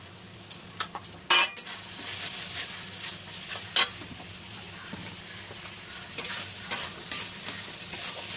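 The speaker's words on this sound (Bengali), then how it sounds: "এবার এটাকে একটু হালকা কষিয়ে নেব।" Turmeric and salt sautéed in oil for a fish roe and cauliflower curry, a soft continuous sizzle with irregular scraping and clinks of a utensil against the pan, close but fairly quiet.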